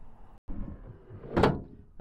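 Stainless tray sliding into a drawer in a Landcruiser 79 Series camper canopy, a short scraping slide ending in a soft knock, heard close after a moment of quiet handling noise.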